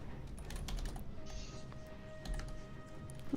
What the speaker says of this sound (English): I'm just typing something out real quick here.